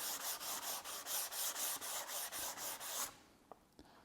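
A fiberglass model rocket tube is sanded by hand with steady, rhythmic back-and-forth strokes, about a dozen close rasping passes. The sanding stops abruptly and leaves a couple of soft knocks.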